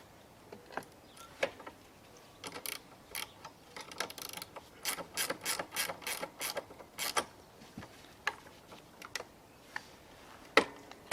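A ratchet works on the recoil starter of a Hayter Harrier 48 lawnmower, making quick, close, quiet clicking bursts with short pauses between strokes and a few creaks.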